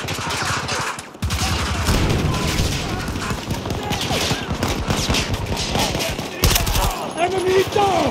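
Sustained automatic gunfire in the Battlefield 2042 multiplayer video game, dense loud rattling bursts with brief gaps and booming impacts, with voices calling out over the shooting.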